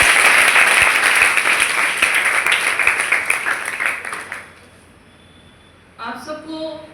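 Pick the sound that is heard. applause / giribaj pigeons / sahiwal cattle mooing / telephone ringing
applause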